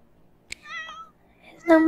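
A house cat gives a short, wavering meow after a sharp click, followed by a person's voice speaking at the end.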